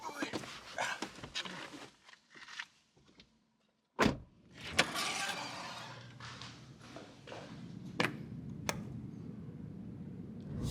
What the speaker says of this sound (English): That is an electric car. Oh, oh my goodness, guys. The Chevy Volt, what a car.